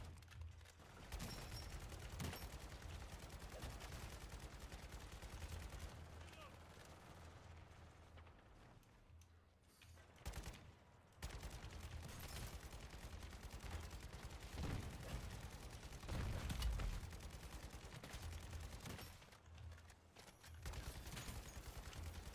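Firecrackers bursting in rapid, irregular volleys, loud and close, with dense crackling clusters that swell and fade over a steady background roar.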